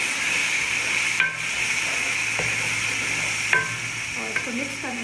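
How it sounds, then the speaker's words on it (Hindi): Tomatoes added to a pan for masala tori (ridge gourd curry) and stirred over medium-low heat, a steady sizzle of frying with a few clinks and scrapes of the spoon against the pan. "अब मैं इसके अंदर टमाटर डाल रही हूँ और इसको अच्छे तरीके से डाल देंगे"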